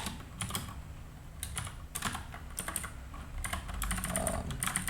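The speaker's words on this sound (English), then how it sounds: "I'm gonna type in I like to type things out, not necessarily with this keyboard" Rapid clatter of a computer keyboard being typed on, bursts of quick keystrokes with short pauses, close and steady with no voices.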